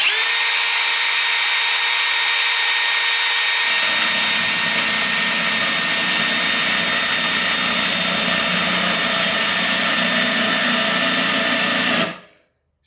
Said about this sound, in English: As the speed starts to pick up, we're going to tilt our drill back over and have that one there sitting nice and flat.